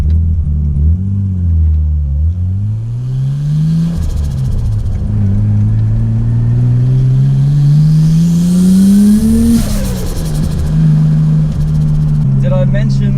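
A Nissan RB25 turbocharged engine revs up and down repeatedly, rising to high pitch and dropping back, loud and close, with a whooshing turbo whistle between revs.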